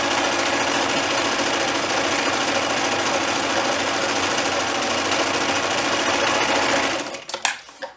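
A sewing machine runs a zigzag stitch along the quarter-inch edge of fleece for an ear warmer, a steady, fast, loud mechanical whirring that continues alone for about seven seconds before stopping abruptly, followed by a few light clicks.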